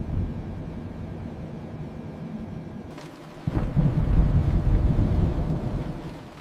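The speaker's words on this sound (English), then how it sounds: "A terrible storm suddenly appears ahead." Rain hisses steadily, then a deep rumble of thunder rolls in and lingers, heavy and close, over the continuing downpour.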